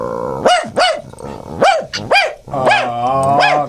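A person imitates a dog with a run of loud, close barks and yips, voiced in quick bursts with brief pauses, sounding much like a real dog.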